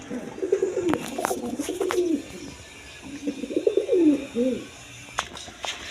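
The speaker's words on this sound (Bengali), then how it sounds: "এখানে এক পেয়ার রেড কালার গড়রা কবুতর আছে" A pair of red Gorra pigeons coo in two rolling bursts separated by a short pause, close and fairly clear, with a few sharp clicks and no voices.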